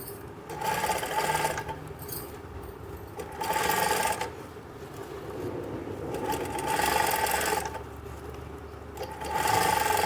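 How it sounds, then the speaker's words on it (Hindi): A sewing machine stitches a strip onto a lehenga in bursts, its close rapid whirring running for a second or so and then pausing, repeated four times with no talk. "ऐसे इसको रखकर ये सिलाई लगाऊंगा"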